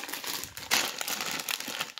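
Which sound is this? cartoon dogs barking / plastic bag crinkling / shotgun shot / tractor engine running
plastic bag crinkling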